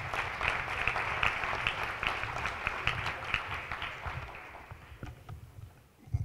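Audience at a Hispanic state employees' annual conference applauds a senator's introduction, a broad wash of clapping that is loud at first and gradually tapers off toward the end.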